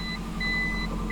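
Toyota Prius reverse-gear warning beep inside the car after shifting into reverse: steady repeating electronic tones over a low engine and cabin hum, close and moderately loud.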